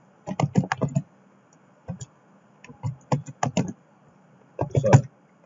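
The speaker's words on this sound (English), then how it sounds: "I will type here all in caps" Typing on a computer keyboard while entering text in Excel, quick clusters of crisp key clicks in short bursts separated by pauses, close and clear with no talk.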